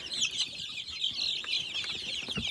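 Several chicks clucking and peeping together inside a brooder that holds multiple breeds, a continuous high chatter with soft scratching and rustling below it.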